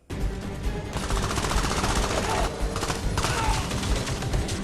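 Gunfire rattles through a battle scene from the film Bad Boys, loud bursts of automatic shots layered in a dense, continuous barrage with thuds underneath.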